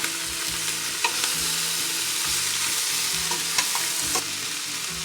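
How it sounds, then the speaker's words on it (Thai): Garlic and onion stir-frying for tomato sauce, a steady dense sizzle with regular scraping strokes of a spatula in the pan, close and continuous without talk. "เราจะคั่วไปจนกว่าหอมเขาจะสุก"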